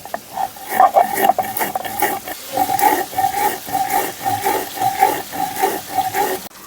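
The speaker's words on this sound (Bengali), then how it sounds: "এখন ভাজা মশলাগুলো বেটে নিচ্ছি" Fried spices are ground on a grinding stone, producing a steady run of rhythmic back-and-forth rubbing strokes, close and fairly loud, with no voices.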